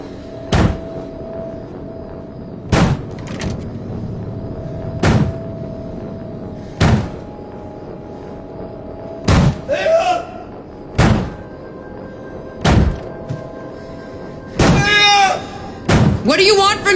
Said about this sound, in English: He's banging his head on my door.